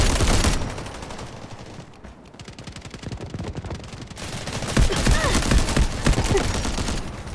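Bursts of rapid automatic gunfire in the Delta Force video game, with sharp repeated shots of a Mini-14 rifle, loud and close, rattling in dense runs with a brief lull before the firing picks up again.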